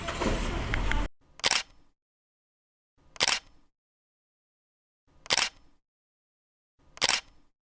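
A camera shutter clicks four times on a street in Notting Hill, London, roughly two seconds apart, each click crisp and isolated after a short burst of background noise.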